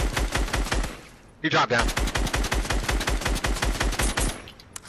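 Rapid, evenly spaced automatic gunfire in a shooter video game rattles steadily and loudly, broken once by a short spoken remark.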